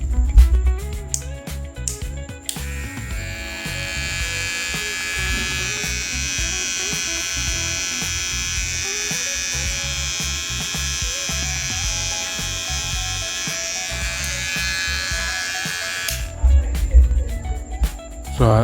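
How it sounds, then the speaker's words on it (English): A Kemei electric hair clipper runs for about fourteen seconds with a steady, high buzzing hum, preceded and followed by handling clicks and rustles, close to the microphone. "it's a very sharp clipper"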